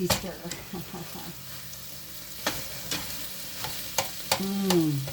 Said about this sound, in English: we're going to give this a little stir